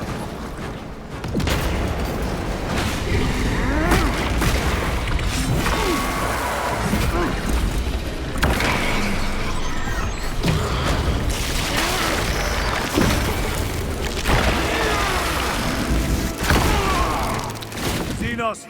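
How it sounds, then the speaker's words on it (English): Crack grenade blast amid heavy combat in Warhammer 40k: Space Marine 2, repeated loud booms and crashes over constant gunfire and alien screeches, with in-game voices speaking intermittently. "Deploying crack grenade."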